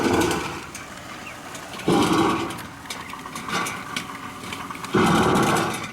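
A sewer cleaning machine spins its cutting blade through Orangeburg pipe in a house's main sewer line, giving a steady motor drone with rough scraping and two sudden louder grinding surges.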